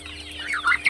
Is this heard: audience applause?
no